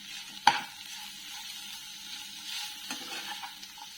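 Bitter gourd slices with turmeric are stirred in a frying pan, a soft low sizzle with one sharp scrape of the spatula near the start and a lighter scrape later, fairly quiet and without voices.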